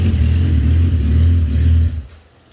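A trike engine fitted with bare exhaust headers idles with a loud, deep, steady rumble close by, then shuts off and the sound drops away in the final half second.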